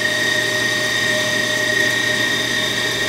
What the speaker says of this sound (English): This one I'm gonna do with the machine running